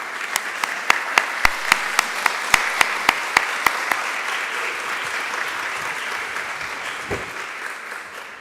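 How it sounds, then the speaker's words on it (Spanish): Audience applause at the closing session of an annual conference, beginning with a run of loud, evenly spaced single claps that give way to dense, sustained clapping from the whole room. "Les pido un gran aplauso para todos los que he nombrado en este cierre"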